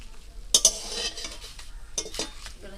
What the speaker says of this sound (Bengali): আমি এপাট ওপাট করে আবার নেড়ে নেবো।